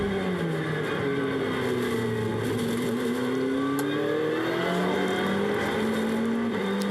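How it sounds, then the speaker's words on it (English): McLaren GT race car lapping Silverstone during Blancpain GT Series free practice, heard on board as a loud continuous engine howl with pitch rising and falling through gear changes. "On board with Chris Goodwin in the McLaren, the 119 McLaren"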